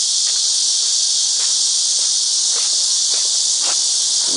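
Cicadas (Nemi) drone loudly and steadily in a Seoul forest in summer, a dense continuous high buzz filling the whole clip with faint rustles beneath.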